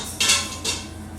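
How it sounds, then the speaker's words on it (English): A metal trivet clanks twice into an Instant Pot's steel inner pot, two bright close metallic rattles in quick succession while corned beef is being prepared. "we're going to put the trivet into the Instant Pot"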